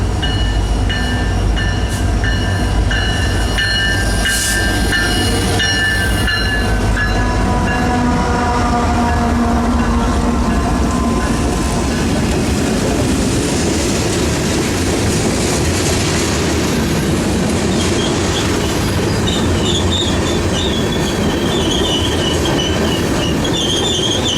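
A Kansas City Southern manifest freight train rolls out of downtown Monroe, its wheels squealing and cars rumbling in a loud, steady roar with a faint horn early on, no voices heard.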